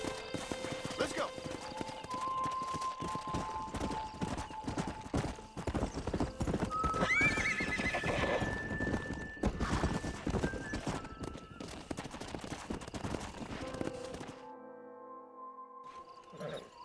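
Horses in Red Dead Redemption: steady hoof clip-clop throughout with a whinny partway through, a music bed and other game sounds around it, ending in a quieter stretch.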